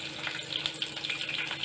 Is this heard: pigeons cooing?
no